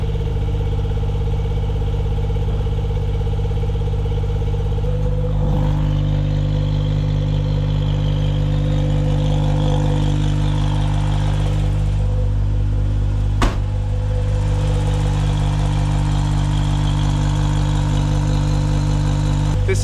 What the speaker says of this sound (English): the engine sounds different